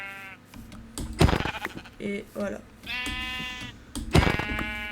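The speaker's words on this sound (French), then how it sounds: "On va aller tuer les moutons." Sheep bleating in the Minecraft video game, several short wavering bleats heard close up among game sounds, with someone speaking French over them.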